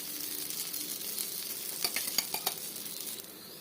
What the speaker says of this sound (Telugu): ఈ విధంగా ఒక గరిటె పిండి వేసుకొని ఇప్పుడు ఆయిల్ అప్లై చేసుకోవాలండి చుట్టువైపులని అంచుల వెంబడి